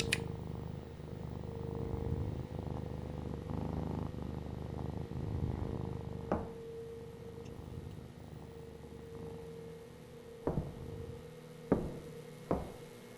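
A cat in a house purrs with a continuous low, rumbling drone that fades toward the end, broken by a few sharp knocks and taps.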